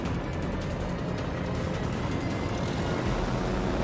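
Fighter aircraft engines droning in the World of Warships naval combat game, a steady broadband roar that holds loud and unbroken throughout with no talk.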